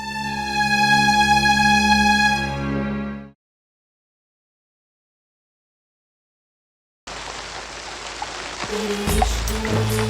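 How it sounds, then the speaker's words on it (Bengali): A sustained musical tone fades to silence, then steady rain begins, a dense hiss with a few low thumps. "বৃষ্টি"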